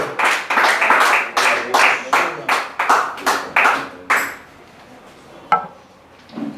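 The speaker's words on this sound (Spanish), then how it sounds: "Dele fuerte ese aplauso al Señor" A church congregation claps in unison in a steady, loud rhythmic beat, about a dozen sharp claps before it stops abruptly, followed by a lone knock and quieter room sound.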